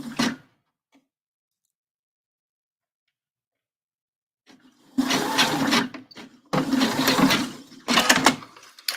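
A sewing machine runs a temporary base stitch in bursts: a brief stitch at the start, a long pause, then three loud whirring runs separated by short stops.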